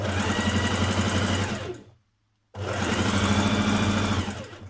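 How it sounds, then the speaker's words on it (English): A sewing machine basting along the folded edge of a trouser waistband casing runs loud and steady in two close bursts, separated by a brief pause of silence. "Fold your casing in half lengthways and then baste at this edge"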